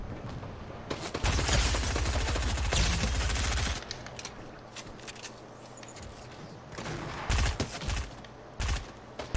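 Rapid submachine gun bursts from a German shooter game in which Maya hunts enemies, loud sustained rattling for a few seconds, then scattered shots and mechanical clatter with further short bursts near the end.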